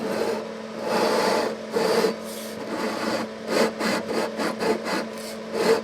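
A fret leveling bar rubbing and filing across the metal frets of a Breedlove acoustic guitar, a series of rasping back-and-forth strokes that start long and become short and rhythmic, close up and with no talking.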